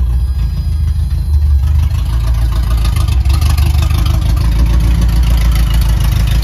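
A small engine with a freshly adjusted carburetor and no exhaust fitted idles loudly and steadily close up, a rough continuous low rumble.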